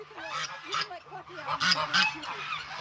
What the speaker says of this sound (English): Just the goose.